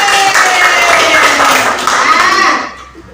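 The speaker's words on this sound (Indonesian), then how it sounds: "tepuk tangan buat Tiara." Children in a classroom clap their hands together in a loud, brief burst of applause with some young voices mixed in, fading out near the end.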